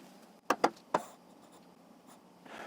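A pen writing numbers on paper for a multiplication sum makes three short, close scratching strokes in quick succession, then only soft faint rustling.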